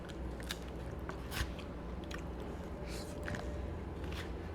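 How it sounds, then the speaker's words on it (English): Crackers are crushed into rice, giving soft, repeated crunching and crackling bursts over a low, steady background. The sound is faint and close. "You can either crush the crackers into the rice or just take like this"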